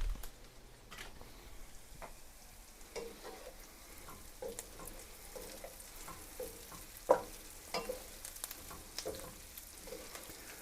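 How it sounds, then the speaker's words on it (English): Onions frying in a pan for scrambled eggs, a steady low sizzle with occasional stirring scrapes and crackles throughout, fairly quiet and close, with no talk. "Now I want to let these onion brown up a little bit more."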